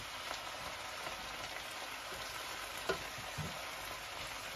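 Cheesy onions frying in a pan, giving a steady close sizzle and crackle with a few light stirring scrapes and clinks and no one talking.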